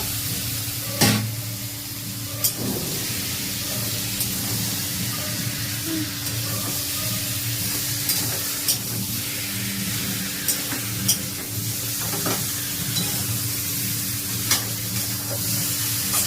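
Boiled vegetables being sautéed with spice masala in a pan, giving a continuous close sizzle with intermittent stirring scrapes and clinks.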